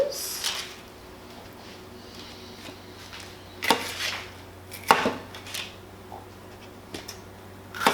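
A knife slices ingredients for mango salsa on a board, giving a few sharp, separate cutting knocks at irregular intervals over a quiet kitchen hum.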